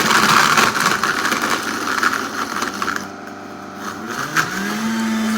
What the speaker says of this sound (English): I mean by you need a powerful blender because it is frozen.